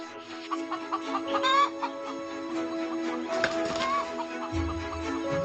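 Several farm chickens cluck and chatter close by in an irregular, busy rhythm, with occasional louder squawks and a low rustle near the end.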